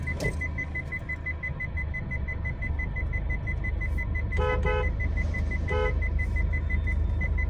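Two short car horn toots sound over a continuous rapid parking-sensor beeping and low engine idle, as a driver honks at a dog lying behind the car.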